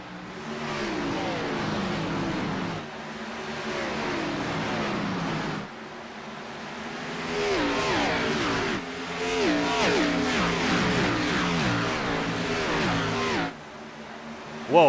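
Race cars in iRacing at Dover accelerate on a restart, engines revving through repeated rising gear sweeps, several cars loud and close, with a brief dip midway and a sharp cut near the end.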